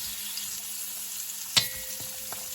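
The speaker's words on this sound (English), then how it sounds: "So all the bones go into the base of the pot." Goat bones dropped into a hot pot for Jamaican curry goat, giving a steady sizzle with a sharp clatter as they land, followed by a couple of fainter knocks.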